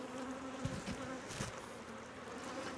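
Honeybees drone in a continuous low buzz close by inside an open hive with emerging brood, steady and faint with a few brief louder passes of bees near the microphone.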